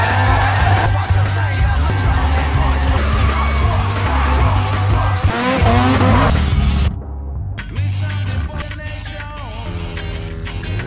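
A drifting car with tires squealing, heard up close over a loud engine roar and a low pounding music bed, the squeals sliding up and down in pitch before the sound briefly cuts and returns quieter.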